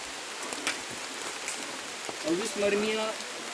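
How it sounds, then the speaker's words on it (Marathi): Heavy rain falls steadily through trees in the Konkan region, a dense, even patter that continues throughout, with a brief voice-like tonal sound near the end. "पाऊस पडतोय जोरात."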